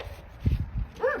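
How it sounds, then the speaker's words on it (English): A pet dog gives a couple of low, short barks and then a higher whimpering yip, close by and brief, reacting to a cat outside. "Now Lucy's barking"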